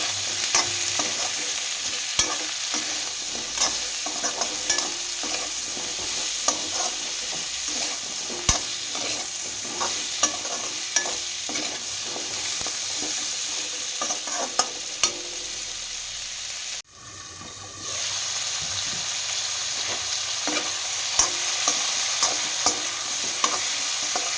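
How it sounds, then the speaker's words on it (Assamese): Spices for a Bhokua fish curry, salt and turmeric among them, fry in hot oil while being stirred. A steady close sizzle runs throughout, broken by repeated scrapes of the stirring spoon and one short dip near the end. "এইখিনি ভালদৰে ভাজি ল'ম।"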